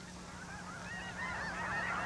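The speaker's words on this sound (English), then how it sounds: "the sky above Tule Lake is made joyous by the sight of snow geese flying north" Snow geese honking at Tule Lake on the California-Oregon border, a dense chorus of overlapping calls from a flock flying north that swells gradually louder and builds over a steady background hum.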